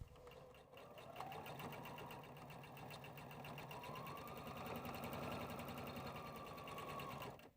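A sewing machine stitches a straight seam joining quilting charm squares, a fast steady mechanical chatter that starts after a short pause and runs evenly and close for several seconds before stopping.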